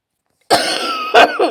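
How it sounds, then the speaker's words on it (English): A person coughs alone against silence, one harsh cough followed by two shorter ones close to the microphone. "I apologise for the coughing."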